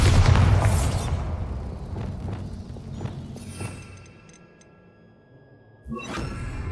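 A Bombarda spell explosion in Hogwarts Legacy, a loud booming blast with debris and crumbling rubble that trails off into quiet, then another thud near the end.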